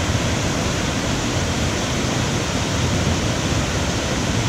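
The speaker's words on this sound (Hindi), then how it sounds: "पहाड़ों से पानी आ रहा है। तो पानी की स्पीड आप यहाँ पे चेक करें कितनी ज़्यादा है।" Fast mountain stream rushing down from the hills past a small power station in Shamsher Valley, Battagram, Pakistan: a loud, dense, unbroken roar of churning water, steady throughout with no voices.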